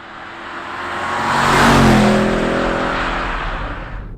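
A Porsche Panamera Turbo Sport Turismo estate is driven hard through corners, its engine note rising steadily to a loud, sustained roar with whirring drivetrain tones, heard from inside or close by with no talking.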